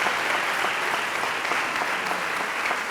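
A theatre audience at a staged mock trial of Captain Haddock claps in a thick, even burst of applause that stays strong and continuous for the whole stretch.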